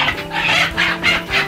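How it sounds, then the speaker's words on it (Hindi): A broody hen, sitting over an egg, clucks in a low, repeated rhythm, four or five drawn-out guttural pulses in quick succession, loud and close. "ये वाला मुर्गी तो कुरुक हो चुका है"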